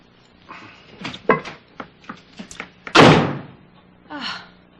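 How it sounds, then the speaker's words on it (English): A house door slams shut as someone heads out into the cold: a single loud, close bang that follows a series of lighter thumps and knocks, with a softer rustle afterward. "Why does he always have to slam the door?"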